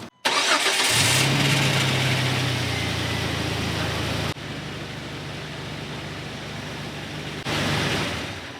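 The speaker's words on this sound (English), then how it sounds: "I'm gonna go ahead and start the Jeep and make sure everything works right" A Jeep TJ fitted with a new serpentine belt cranks and fires up, then settles into a steady close idle with a brief belt whine. The engine drops quieter partway through and swells again near the end, with no talk.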